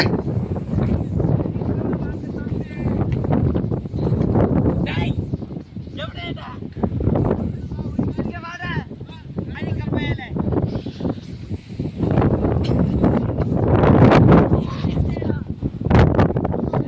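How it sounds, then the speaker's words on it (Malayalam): Strong wind on a trekking trail up Koonichimala hill in Kerala, India, buffets the microphone in loud rumbling gusts, with people talking intermittently over the blustery roar. "നല്ല കാറ്റ് വീശുന്നുണ്ട് ഇവിടെ"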